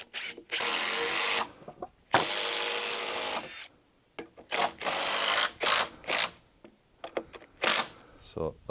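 A power drill drives screws into a timber frame for a smallholding shed, its bursts of high whine starting and stopping at close range, with a few short pauses and talk between them.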